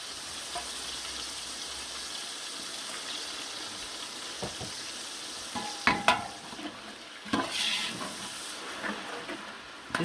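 Tomato paste fries in ghee for chana pulao, a soft continuous sizzle broken by a few sharp clanks and scrapes of stirring, with no one talking.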